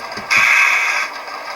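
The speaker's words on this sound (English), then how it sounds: "So that's the air dryer." Air dryer sound effect from an ESU LokSound decoder in an HO scale Intermountain ES44AC model locomotive: a short, sharp hiss of air bursts out and holds under a second before cutting off, over a low mechanical hum.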